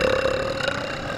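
A single drawn-out burp, loud and close, holding a steady low tone through the whole moment with no talk over it.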